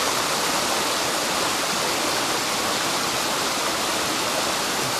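The West Fork of the White River below Mystic Lake rushes in a loud, steady, broadband roar of whitewater, constant throughout with no voices.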